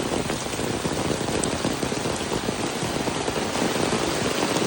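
Steady rain pours down near a pond by a house, a dense, even hiss of drops that stays loud and unbroken throughout with no one speaking.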